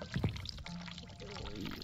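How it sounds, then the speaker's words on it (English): Water running in the video game The Cat Lady, a faint, steady pour in the background with a voice heard briefly near the start. "I can hear the water running."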